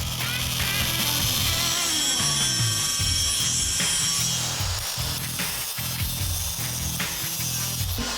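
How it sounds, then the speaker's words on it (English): An abrasive cutoff wheel slices through a steel driveshaft tube, giving a continuous harsh grinding whine with shifting pitch, loud and close, with no talking. "Then we're just going to lay the cutoff wheel right alongside and cut it off completely straight."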